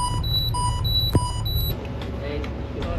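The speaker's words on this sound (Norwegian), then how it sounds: "Det gikk en alarm her, så jeg måtte bare legge inntil for å få nullstilt." A boat engine alarm beeps in a repeating pattern of short electronic tones over a low engine rumble, then stops as the engine noise carries on.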